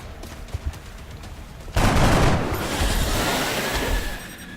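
Gunfire from the XCOM: Enemy Unknown video game: a sudden loud burst of rapid shots that tails off into a rumbling, fading roar after a quieter lead-in.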